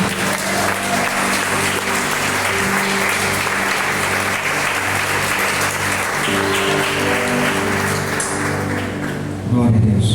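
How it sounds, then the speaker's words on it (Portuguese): Sustained applause from a church congregation rolls on steadily for about ten seconds, with sustained musical tones underneath and a voice emerging near the end. "E as palmas para Jesus."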